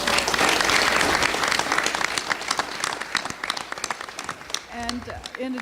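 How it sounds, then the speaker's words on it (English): An audience gives a round of applause for the student helpers at the Greater Vision 2016 event. The dense clapping thins out toward the end as a voice starts talking. "we should give them a round of applause as well."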